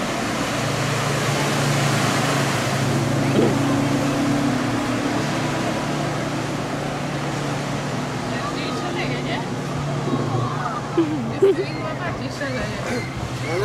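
Jet skis ride on Lake Sarcze near Trzcianka during an eco picnic, a steady droning engine hum with broadband wash and splashing waves, heard at a distance under people talking nearby.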